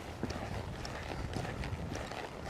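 Horse loping in a circle around a barrel during a riding lesson, with steady muffled hoof beats in a continuous rhythm over dirt, fairly near, under a busy, noisy background.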